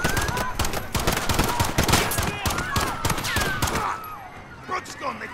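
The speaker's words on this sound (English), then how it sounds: "Shots fired." Rapid bursts of gunfire and automatic weapon shots crack out in a dense, loud volley over shouting voices, then break off into quieter scattered sounds near the end.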